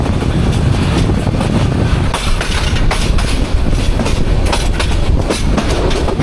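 Upaban Express train running through Brahmanbaria station in rainy weather without stopping, a loud steady rumble of wheels and carriages with rhythmic clickety-clack and sharp knocks, heard close from on board with no talking.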